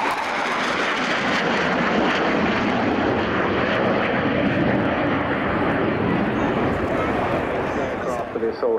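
A military jet flies an airshow display at Yeovilton naval air station with a loud, steady roar of jet engines pulling high-G turns, sustained close and unbroken throughout, with no speech over it.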